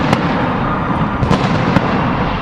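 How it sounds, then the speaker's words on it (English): Distant fireworks pop and crackle over a steady broadband crowd and stadium-like roar after a Rangers hockey game, with a few sharper bursts standing out faintly. "in the distance, fireworks and a reward for those who did not give up"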